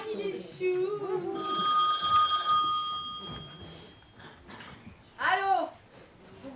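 A telephone rings in a short electronic trill, loud and close for about two seconds, with voices talking before and after it and a brief bright chime near the end.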